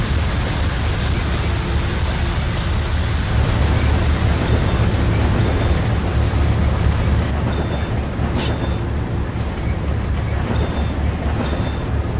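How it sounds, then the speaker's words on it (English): A train rolls past in a rail video game with a loud, steady rumble of wheels on rails, with faint squeals and clicks over the continuous roar. "Now let's wait for the Q456 to clear before we take this train to Jack's."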